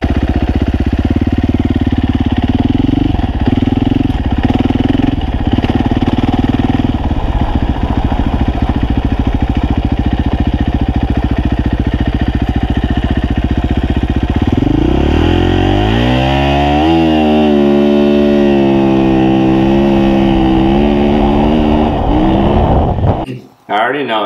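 A KTM EXC-F dirt bike engine revs loud and close throughout while being ridden, its pitch climbing and falling through gear shifts with a surging rise near the end before cutting off abruptly.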